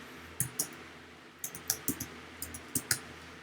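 Someone types on a computer keyboard while setting up a web-based control program for a Ten Tec Pegasus radio: a few quick, faint, soft clicks in short bursts in a quiet room.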